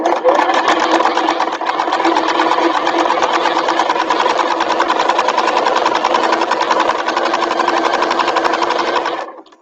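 A sewing machine stitches a bag panel in one loud, unbroken rapid mechanical rattle that slows and stops at the end.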